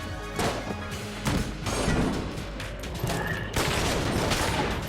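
Loud booming blasts and crashing debris from a battle in the video game Enter the Gungeon, with heavy gunfire layered throughout, dense and continuous.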